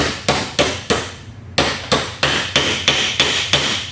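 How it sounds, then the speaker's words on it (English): A hammer drives a metal axle cap onto a go-kart axle: ten sharp, ringing strikes close by, evenly spaced with a brief pause after the fourth, each blow decaying quickly. "we gently put it on there, our hammer, and we hammer gently"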